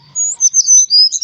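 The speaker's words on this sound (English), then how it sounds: "It's a sparrow chirping nearby." A sparrow chirps nearby in a quick run of bright, high tweets, several short calls in close succession with no talk over them.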